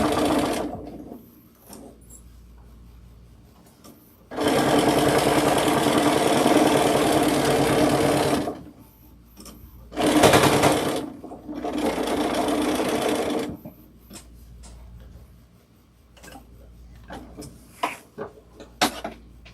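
A sewing machine top stitches a tote bag in several loud, fast whirring runs, long and short, separated by quieter pauses with small clicks and handling noises.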